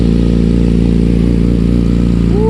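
A 2017 Yamaha R6 sport motorcycle fitted with an M4 slip-on exhaust idles loud and close after a cold start, a rough steady engine drone with a brief rise in pitch near the end.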